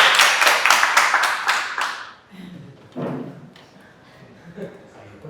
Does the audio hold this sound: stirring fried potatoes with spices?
no